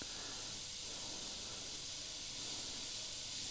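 Steady, close airbrush hiss from an Iwata HP.CH spraying thinned paint, a continuous even blast of air and atomised paint that runs alone without pause or change in loudness.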